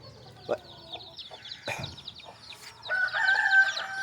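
Native country chickens in a backyard coop, with a rooster crowing and hens clucking at close range; a sharp call breaks out early, followed by a longer, louder stretch of overlapping crowing and chatter toward the end.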